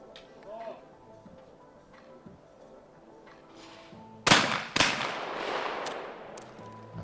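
Shotgun shots in a men's team skeet final: two sharp reports in quick succession, following a quieter stretch with commentary talk and crowd murmur underneath.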